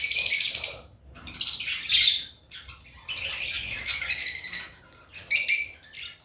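African lovebirds in cages give loud, high, rapid chirping in separate bursts broken by short quiet gaps, heard close up with no one talking.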